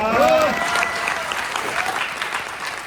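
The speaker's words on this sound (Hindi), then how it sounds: "आपके सामने शानदार तालियां" Loud, dense applause from a seminar crowd at an RCM event in Rajkot, with a voice briefly heard over the clapping at the start.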